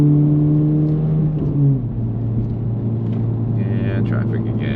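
A Honda Civic Type R FL5 in the Forza racing game brakes hard into a left hairpin, its engine note sliding down sharply as revs fall, then droning on at lower pitch, with someone talking over it.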